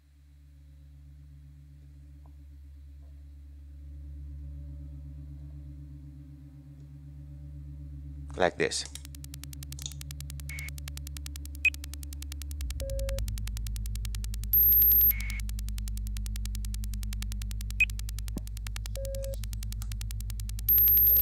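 A pure sine tone on a modular synth hums steadily, then is routed through a shimmer reverb that blooms into a sustained, brighter wash with short beeps and clicks; someone talks briefly over it.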